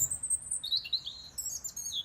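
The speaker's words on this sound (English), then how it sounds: "this nature reserve is home to some quite rare species of birds" High, thin chirps and tweets from birds at the Calvert Jubilee wildlife nature reserve, repeating in short bursts and sliding phrases, fairly close and clear against a quiet outdoor background.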